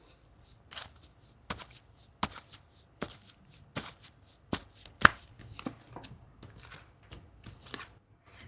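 Tarot cards are shuffled and drawn with sharp, quiet riffling snaps and soft card slaps in an uneven run of close, crisp clicks, with no voices.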